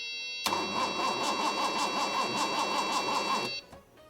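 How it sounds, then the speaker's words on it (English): A Datsun 240Z engine cranks over on its starter for about three seconds, a steady rhythmic whirring churn up close and loud, then cuts off abruptly. "we have a car that turns over."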